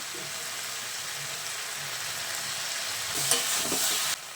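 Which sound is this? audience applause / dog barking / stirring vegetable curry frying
stirring vegetable curry frying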